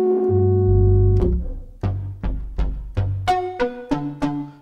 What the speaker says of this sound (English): Nice short reverb there.